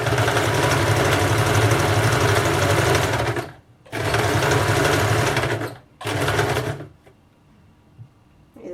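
A sewing machine stitches blouse pieces in three loud, close bursts of rapid whirring, each stopping abruptly, followed by quiet handling noises.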